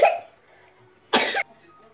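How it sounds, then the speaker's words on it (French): In a home kitchen during cooking, a child gives a short burst of coughing, sharp and close, after a fading earlier sound, with quiet room tone around it and no talking. "c'est mon fils qui tousse"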